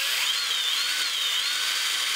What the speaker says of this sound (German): Jetzt bohrt man da quasi von oben